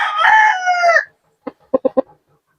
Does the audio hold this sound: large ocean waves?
no